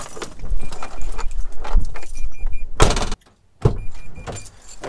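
A bunch of keys jangles in short bursts inside a car on a London workday, mixed with rustling and thumps of movement and a door sound, then a brief silence before more handling noise.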